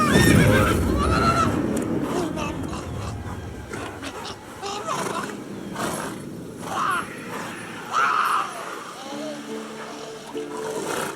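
In The Witcher 3, the horse Roach lets out a whinny and snorts near the start, then gives softer neighs over hoof clopping and ambient game sound, with a voice talking in between.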